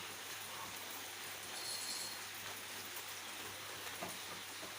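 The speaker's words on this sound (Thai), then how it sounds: "ฝนตก" Steady rain falls outdoors in southern Thailand near a wall where apple snails climb to lay eggs, a continuous broadband hiss of drops on surfaces at moderate level with no talk.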